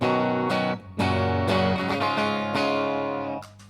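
A clean American Fender Telecaster on the bridge pickup, no pedal, plays bright, twangy chords and single notes, strummed in short bursts with brief pauses, sounding sharp and close.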